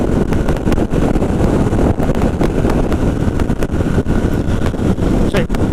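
Wind blast buffeting the microphone while riding a Royal Enfield Shotgun 650 motorcycle at motorway cruising speed, a loud, constant roaring rush with gusty thumps throughout.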